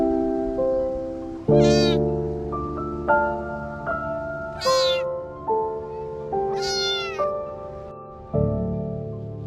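A wet, frightened stray kitten gives a string of loud, close meows, about seven separate drawn-out cries with short pauses between them and no other sound around.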